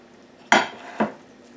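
A spoon works through a pot of vegan spaghetti bolognese sauce in two quick, wet scraping strokes, close and moderately loud, with quiet room tone in between.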